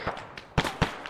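A rocket launcher fires in the military video game Arma, with a few sharp bursts and booms spaced unevenly over a second, fairly faint.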